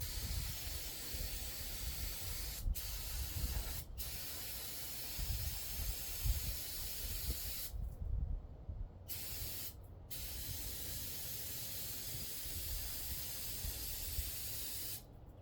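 Aerosol spray hissing onto upper control arm bushings during a bushing job, a close, steady hiss broken by a few short pauses between bursts, with no talking.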